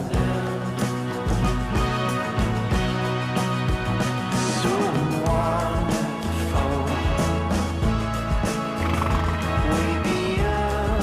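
Horses neighing and whinnying with hooves clip-clopping in rural northeast Iceland, loud and close, with several calls over steady hoofbeats and background music.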